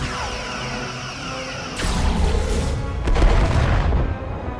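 Starship weapons fire in the Star Trek: Resurgence video game: two loud, booming bursts about a second apart over a steady background drone, with no voices.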